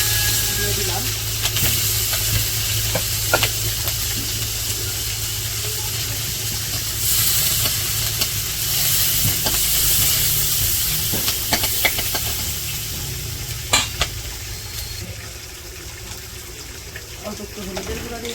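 Onions and green chilies frying in a pan give a continuous loud hiss and sizzle with occasional stirring scrapes, while a voice talks over it at times.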